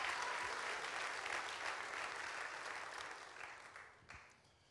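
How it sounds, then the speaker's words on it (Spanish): A church congregation claps hands during a revival service, a broad sustained wash of applause that thins and fades toward the end. "Denle palmas a Cristo, gloria a Dios."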